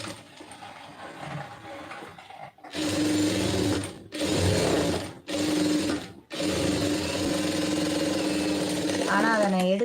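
Sewing machine stitching a lined blouse, running in three long bursts separated by short pauses, steady and close, with someone speaking over the stitching.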